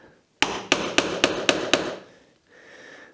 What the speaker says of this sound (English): So I'm just going to line my chisel up, make sure I'm perpendicular. Couple of taps.